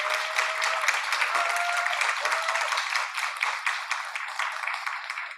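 An audience applauds at a school education information session, with sustained, dense clapping from many hands that stays fairly even before thinning slightly at the end.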